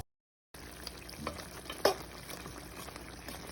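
Jamaican brown stew chicken bubbling and sizzling as it cooks down in a pot, a soft steady simmer after a brief silence, with a few small clinks and one sharper tap of a spoon against the pot.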